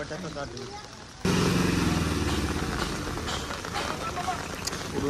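An auto rickshaw engine runs while the vehicle is stuck in heavy rain. The engine suddenly kicks in loud and near, then drones steadily under a broad rain hiss while a voice speaks.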